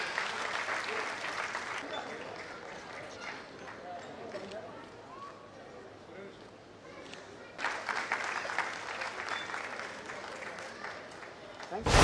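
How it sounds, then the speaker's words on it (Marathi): Audience applause at a public event in Pune honouring an artist, a broad steady clapping wash that swells again loudly near the end, with talk mixed in. "जोरदार टाळ्या तिच्यासाठी।"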